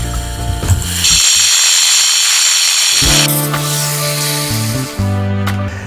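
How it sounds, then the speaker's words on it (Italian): Floor tiles being removed with tools ahead of building a small cellar, loud harsh mechanical grinding and rattling that shifts in pitch, close and continuous with no talk. "Come prima cosa incomincio a rimuovere le piastrelle."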